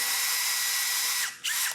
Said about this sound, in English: This is an 1/8 inch drill bit.